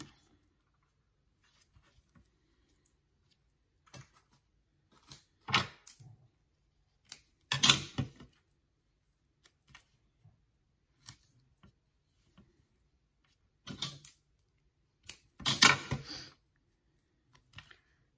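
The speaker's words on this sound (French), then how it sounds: "Donc je vais mettre déjà du scotch." Sticky tape ripped off a roll in short bursts and stuck to the corners of a scrapbook album page, separated by quiet gaps with faint clicks and handling noises, close up and with no talking.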